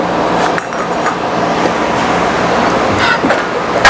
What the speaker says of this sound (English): I'm going to drop a couple of welds on the other side to see if I can pull it back just a little